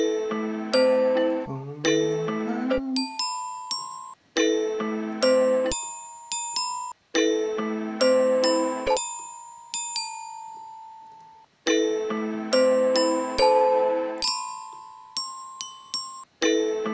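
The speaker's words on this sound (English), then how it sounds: "I think it's the glockenspiel in this one." A pitched-down glockenspiel bell sample rings out in a slow, repeating melodic phrase for a dark, emotional music production. Each note strikes clearly and decays, and the phrases return in loud cycles with brief gaps and no talking.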